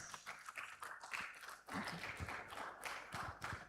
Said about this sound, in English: Another round of applause for the teams that have just left.